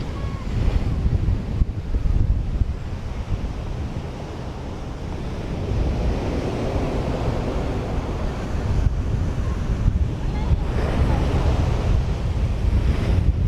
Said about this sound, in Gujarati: તો મિત્રો પવન ફૂલ છે ને અમે બસ દરિયે જ આવ્યા